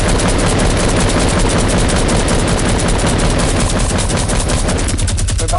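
Sustained rapid gunfire from a shooting video game, a loud unbroken machine-gun rattle lasting the whole stretch with no pauses and no talking over it.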